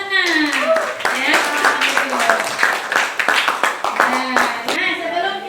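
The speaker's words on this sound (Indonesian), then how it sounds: "Silahkan tepuk tangan untuk pemenang." A school class claps for the winners of a lesson ranking, a burst of many hands clapping over lively, overlapping voices that carries on for several seconds.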